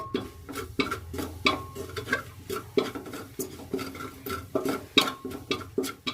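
Spoon scraping and knocking in a pan as pav bhaji masala is stirred for a street-style pav bhaji, a steady run of close, sharp clinks and scrapes with a faint sizzle beneath, no talking.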